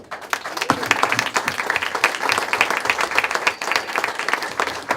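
A crowd at a campaign party breaks into applause, dense, irregular clapping that swells and stays lively for several seconds, heard from within the room.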